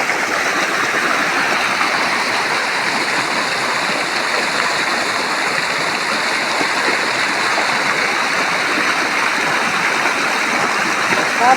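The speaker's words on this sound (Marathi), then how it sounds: "बदबद बदबद नालं भरून पाणी चाललं" An irrigation canal brims with water released for summer farm fields, rushing in a steady, loud, unbroken flow that continues alone throughout.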